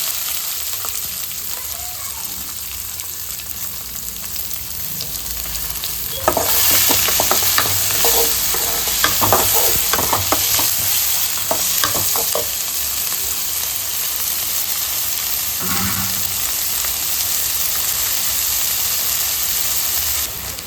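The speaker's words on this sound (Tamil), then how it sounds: "வெங்காயம் வதங்கிடுச்சு" Sliced onions and curry leaves sizzle steadily in hot oil in a pan for a Tamil chicken gravy, with a spoon scraping and stirring in intermittent bursts over the constant frying hiss.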